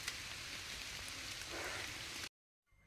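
Steady rain falls over a tribal village in Seethampeta, a soft continuous hiss at low volume that cuts off abruptly near the end.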